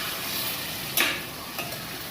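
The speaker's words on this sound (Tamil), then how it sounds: "ஒரு வாட்டி லைட்டாக வறுத்துக்கலாங்க" Marinated chicken for a Hyderabad dum biryani fries lightly in a pot, giving a dense, even sizzle with a couple of soft stirring scrapes partway through.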